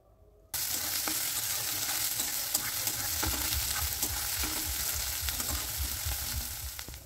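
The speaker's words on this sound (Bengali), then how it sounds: "এবার এই সমস্ত কিছু খুব ভালো করে একটু নেড়েচেড়ে মিশিয়ে নিতে হবে।" Chopped onions and green chillies frying in a pan, starting abruptly with a loud steady sizzle and rhythmic scraping of the spatula as everything is stirred, close and alone.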